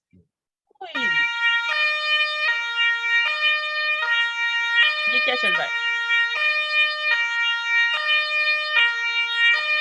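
A police car siren wails loudly and steadily, alternating between two pitches in a repeating cycle that runs through nearly the whole stretch, with a voice asking a question just before it starts and brief talk partway through.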